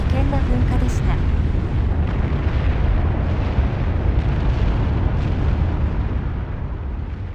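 Kirishima's Shinmoedake volcano erupting violently and continuously blasting out pumice, a dense, loud, unbroken roaring rumble that holds steady for the whole stretch.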